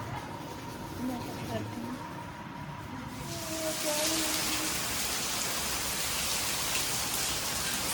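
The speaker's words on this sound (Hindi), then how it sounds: "आप देख सकते हो कितनी तेज बारिश हो रही है।" Rain falls steadily and then intensifies into a heavy downpour, a dense hiss on surfaces with faint voices early on.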